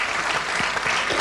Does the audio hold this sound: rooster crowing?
no